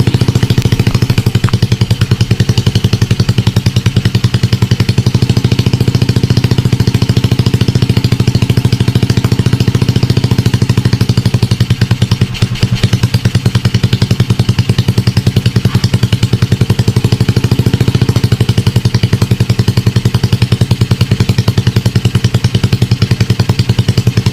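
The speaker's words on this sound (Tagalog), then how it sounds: "ayan yung tambutso ni Stacy" A motorcycle with a converted piston-type carburetor idles loudly and continuously up close, its exhaust giving a rough, rapid, pulsing rumble with a brief dip midway.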